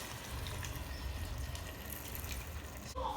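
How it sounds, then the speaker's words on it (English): Water pours into a pot of simmering pepper soup on the stove, a faint steady trickling wash over low cooking rumble that ends with a brief clunk. "I'm gonna add a little drop of water."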